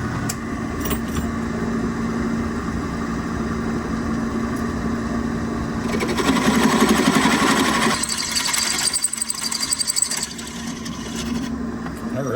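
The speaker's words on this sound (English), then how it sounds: "a 13/32 drill bit to widen our holes out on the new bracket." Drilling out holes on a new brake caliper bracket with a 13/32 drill bit, a steady machine whir with grinding bursts midway and rhythmic chatter near the end, close and without talking.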